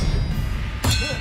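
An Expelliarmus spell is cast in the video game Hogwarts Legacy: after a low steady hum, a single sharp metallic clang rings out midway and then fades, with no voices.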